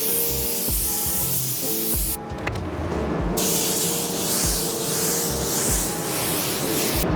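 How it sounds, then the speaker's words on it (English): A Lumaiii Exodus spray gun sprays base coat blender onto doors, a steady loud hissing spray running throughout with one brief pause near the middle, then resuming continuously. "spray some base coat blender down"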